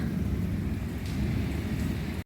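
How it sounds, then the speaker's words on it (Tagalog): Steady August rain falls in a continuous dense hiss with a low rumbling undertone, close and even for its whole short length, with no voices. "pangalawang ulan ata to ngayong buwan na to ng Agosto"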